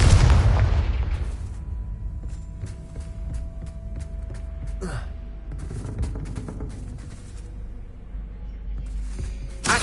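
A Confringo spell blast in Hogwarts Legacy opens with a loud booming explosion that rumbles and decays, followed by scattered crackling bursts and pops in the game's background.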